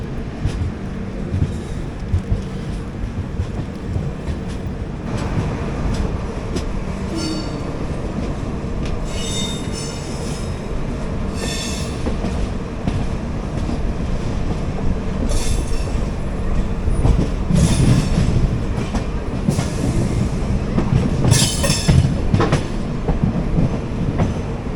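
Garib Rath Express train rolling out of Ernakulam Town station in Kerala, a steady loud rumble of coaches with clattering wheels and intermittent squeals and screeches, continuous throughout and building slightly.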